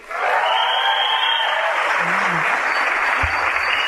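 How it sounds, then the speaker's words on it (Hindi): A large seminar audience claps loudly and continuously, a dense roar of applause from start to finish with a brief low hum and a thud near the end. "आप लोग सब अपने लिए जोरदार तालियां बजाइए"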